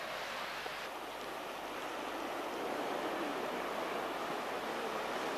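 Soft, steady wash of calm sea waves at Palanga, Lithuania, a continuous broad rush with gentle swells and no voices.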